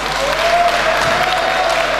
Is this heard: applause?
yes